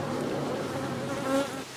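Honeybees buzz and fan at the entrance of a hive in a dense, steady drone, close and continuous with no talking.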